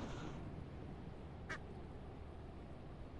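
A squeaky rubber duck toy quacks once in a video game, a short bright squeak standing out over a steady low background hum.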